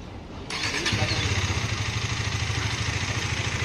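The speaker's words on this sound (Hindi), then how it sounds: "हाँ भाई बाइक स्टार्ट कर" A KTM Duke 250 motorcycle cranks and fires up at a birthday gathering, its engine catching quickly and settling into a steady, rhythmic idle that stays loud and close for the rest of the moment.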